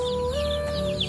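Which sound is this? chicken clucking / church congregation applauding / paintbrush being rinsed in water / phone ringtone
chicken clucking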